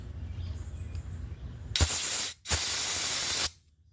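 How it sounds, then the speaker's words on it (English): An air compressor nozzle blows out parts of a Troy-bilt 21-inch self-propelled mower, two loud close hissing blasts with a brief gap between them, after a quieter stretch of low rumble. "Now I got my air compressor on deck for us to blow this out."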